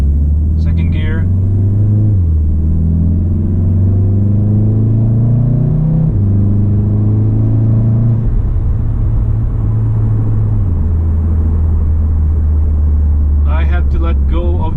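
A Stage 1 tuned car with a DSG gearbox in race mode pulls hard through the gears, its loud, close engine drone climbing in pitch and then dropping at each shift, with brief lift-off breaks.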